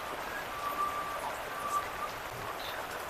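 Steady rain falls outside during a kitchen session, a soft, even patter that stays faint and constant throughout, with no talk over it.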